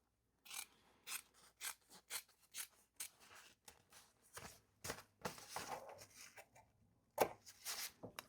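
Scissors snip through fabric while trimming a sewn bum bag with a zipper, a run of about fifteen crisp, evenly spaced cuts, close and dry with no talking.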